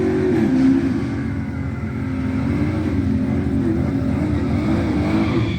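Car making a 7.5 index pass at I-64 Motorplex drag strip, a loud sustained engine roar holding steady across the whole run with a slight rise near the start, with no voices.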